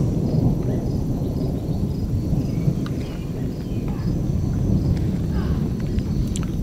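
A freakish South Dakota thunderstorm with strong winds roars as a dense, continuous rush of wind and low rumbling thunder, heard close and loud throughout without talking.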